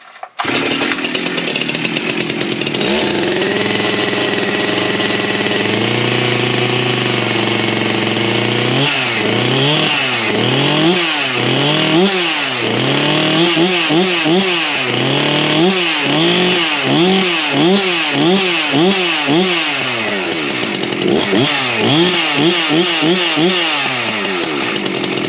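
A small engine, just fitted with a swapped carburetor, fires up and runs loud and close, holding a steady idle before rhythmic revving that rises and falls repeatedly through to the end.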